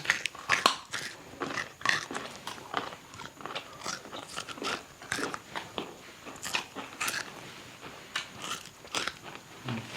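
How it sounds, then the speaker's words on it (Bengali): Raw peeled beetroot being bitten and chewed up close, giving a steady series of crisp, crunchy bites and wet chewing crackles at an irregular rhythm, close to the microphone and otherwise quiet. "আমি ছুলেই খাই"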